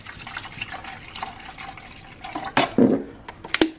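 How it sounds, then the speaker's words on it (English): Water from a regular plastic bottle poured into a bag, heard as irregular sloshing, trickling and splashing that grows louder toward the end, close up and without voices. "So I just put a little water in the bag."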